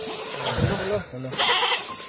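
A goat bleats nearby in a couple of wavering cries, overlapping with people talking close by.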